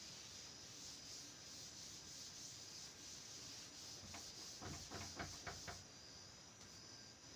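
Writing is wiped off a classroom board, a quiet scratchy rubbing that builds into a few quick strokes near the end over faint background hiss.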